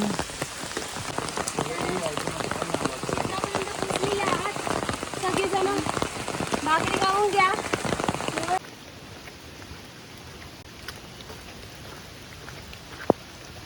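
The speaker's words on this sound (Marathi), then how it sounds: "पाऊस पण पडत आहे" Steady monsoon rain patters down through forest foliage on Harishchandragad, broadband and dense, then drops to a quieter, softer drizzle partway through with a single sharp tap near the end.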